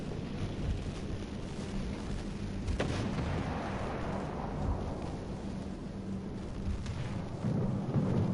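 Heavy guns of a French battleship firing in World of Warships Legends, deep rumbling booms rolling beneath a continuous low game soundscape, with one sharper blast standing out and a rising rumble near the end.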